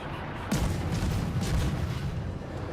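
Naval guns firing aboard the Shimakaze destroyer in World of Warships, a sudden deep boom followed by rolling rumble and a second heavy report, with no talk.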